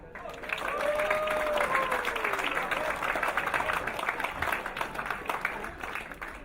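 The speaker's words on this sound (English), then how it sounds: "And a big clap for all the alumni." An audience at a silver jubilee celebration applauds alumni, dense clapping swelling quickly and holding steady, with a few faint tonal whistles or cheers and some voices mixed in.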